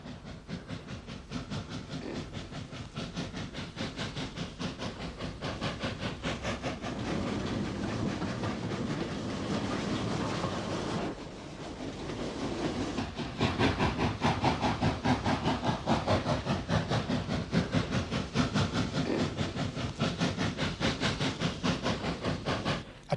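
A GNR SG2 class 0-6-0 steam goods train passes between Moira and Maze, with a loud continuous rumble, hiss and rapid rhythmic beats, a brief dip midway, then a steady heavy chugging to the end.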